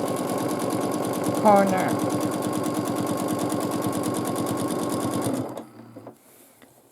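A sewing machine doing free motion quilting on a border runs in a fast, even, close mechanical stitching rhythm for about five seconds, then stops abruptly. A voice speaks briefly over it early on.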